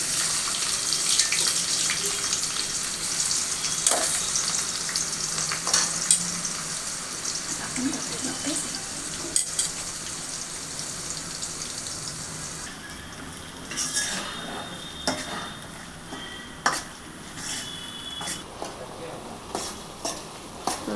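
Onions and cumin frying in oil for a raw prawn curry, a continuous crackling sizzle up close with scattered stirring clicks, the hiss easing partway through, no clear speech.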